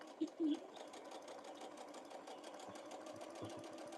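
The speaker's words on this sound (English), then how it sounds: "But okay, I'm gonna sew this." A sewing machine hums steadily as it stitches a fabric bee pouch, close and continuous, with a brief voice sound at the start.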